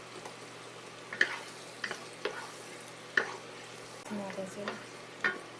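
Garlic and onion fry in a mix of oil and butter with a soft, steady sizzle, broken by intermittent scraping and knocking of a stirring utensil, while a voice briefly speaks.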